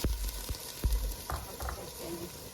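Garlic, ginger, green chili and tomato fry with spices in a pan, giving a steady sizzle broken by several scraping stirs of a spoon, close and moderately loud, with no speech.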